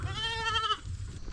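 Goats bleat in a short, loud, wavering call close by, ending after under a second, followed by quieter outdoor noise at a farm.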